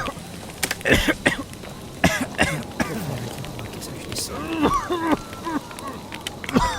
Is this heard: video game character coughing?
yes